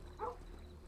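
A dog in the game Kingdom: Two Crowns gives one brief, faint yip or whimper, a single soft canine cry heard over a quiet background hum.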